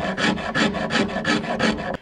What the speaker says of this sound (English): When you're rasping right here,